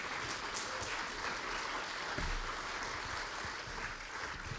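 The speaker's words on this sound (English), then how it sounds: "let's give these guys a round of applause" Applause from a church audience welcoming a soldier, an athlete and a farmer on stage, a fairly quiet, even patter of clapping that carries steadily throughout.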